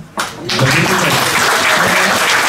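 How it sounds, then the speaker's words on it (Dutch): An audience at a Special Olympics sports team celebration breaks into loud, sustained applause that rises quickly and holds at full strength, with a few voices mixed into the clapping. "nog een keer applaus"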